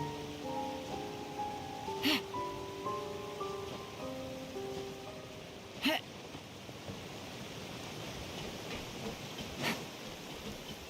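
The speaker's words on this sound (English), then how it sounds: "It's raining again? Oh, this isn't good." Steady rain patters on surfaces throughout a scene in Genshin Impact, a dense hiss with occasional sharper taps, while a soft melodic tune plays briefly at the start.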